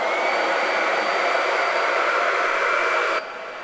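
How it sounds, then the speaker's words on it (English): A hairdryer set to hot and high roars steadily at close range while drying watercolor-treated 651 vinyl, a loud continuous rush that drops to a quieter hum just before the end. "you're going to grab a hairdryer, make sure it's on the hot setting and high"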